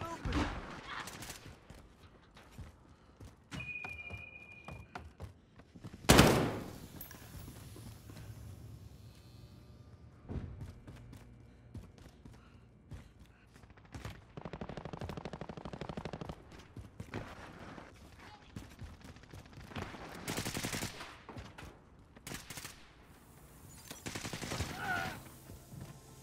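Gunfire in Call of Duty: Modern Warfare team deathmatch, scattered bursts and single shots near and far, including one loud close blast, with in-game voices calling out between them.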